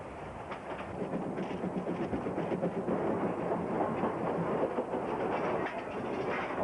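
A 60-year-old coal-burning steam train runs on rails with a continuous rumbling roar and rapid clickety-clack of wheels over rail joints, heard steadily from on board.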